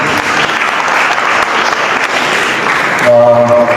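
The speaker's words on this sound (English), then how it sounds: "big hand clap for our representative." Dense, loud audience applause with hand clapping at an airport authority event, steady for about three seconds before a tonal sound cuts in at the end.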